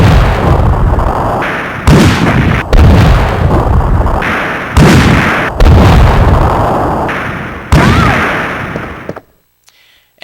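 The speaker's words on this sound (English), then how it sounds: "So here's the mine thrower enhanced. A mine thrower loaded with special bullets that have auto trace feature." Enhanced mine thrower in Resident Evil 3 firing five loud, booming shots spaced about a second apart, each a sharp blast with a decaying rumble, ending in near silence.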